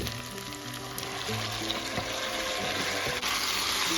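Mixed vegetables for Gujarati surti undhiyu frying in oil, a steady close sizzle running the whole time with small bubbling crackles, no voices.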